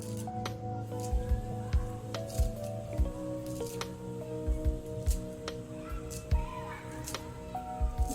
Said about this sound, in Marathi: आणि तांदूळ टाकल्यानंतर आपण कोथिंबीर कट करून टाकूया.